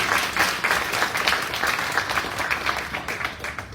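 Steady applause from a crowd, dense clapping at an even level throughout with no pauses.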